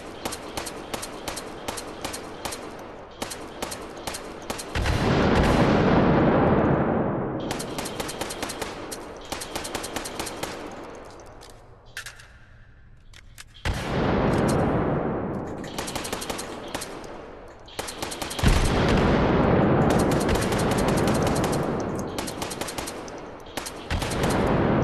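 A PMR-30 .22 Magnum pistol in the VR game H3VR fires rapid, loud bursts of shots that keep returning through the clip, broken by ringing booms of exploding targets.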